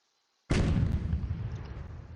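Cannon fire from a naval battle in the Port Royale 2 video game. After brief silence, a sudden loud boom hits and rolls on into a long, rumbling decay with no speech over it.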